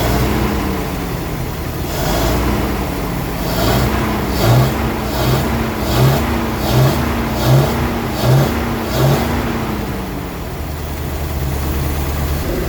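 A Rolls-Royce engine idles and gradually rises in speed, a steady close rumble with a faint wavering tone and soft regular pulses, with no talk over it.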